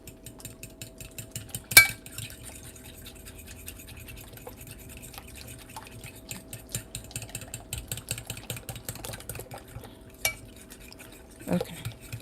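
A fork whisks eggs in a bowl in a quick, steady rhythm of light tapping clicks, faint and close, with a couple of louder knocks against the rim.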